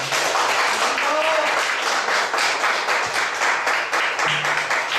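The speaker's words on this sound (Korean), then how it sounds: "긍정 있는 강의를 해주신 우리 김홍신 의원님께 다시 한번 큰 박수 부탁드리겠습니다" A big audience applauds steadily and densely for several seconds after a lecture by novelist Kim Hong-shin, with a continuous wash of clapping from many hands.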